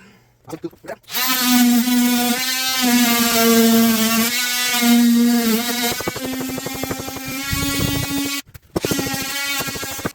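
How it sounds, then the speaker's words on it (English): An oscillating multi-tool cuts out a marked section of wall during a bathroom remodel, its loud, steady buzzing whine running continuously for several seconds with brief stops and restarts. "we're gonna get my oscillating tool and we're gonna cut it out"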